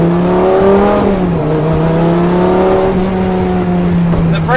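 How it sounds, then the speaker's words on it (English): First-generation Lamborghini Gallardo V10 driven at night, heard from inside with a loud, steady engine drone whose pitch climbs and settles through gear changes, with brief rises near the end. "The first generation Gallardos have some of the best sounding V10s ever made."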